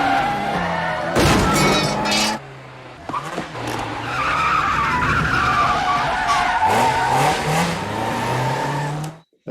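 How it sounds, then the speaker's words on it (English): A car pulls a handbrake turn through a Paris street in a movie chase, sliding with a loud, sustained tire skid and squeal over engine roar, with a sharp crash or shatter near the start. "It is a great handbrake turn in the middle of Paris"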